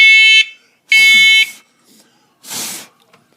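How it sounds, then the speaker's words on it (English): A shop smoke alarm going off in loud, piercing electronic beeps, two long tones followed by a shorter, noisier chirp, close and alone. "the best thing about my shop, the smoke alarm that hates me."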